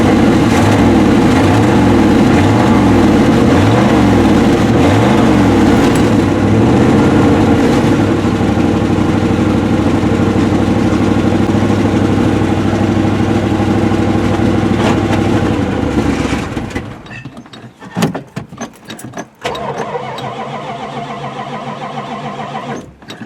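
A retired Oklahoma highway patrol cruiser idles loud and close with a steady, rough rumble for about sixteen seconds. Then the engine cuts out, leaving sputtering pops and faint scattered noise.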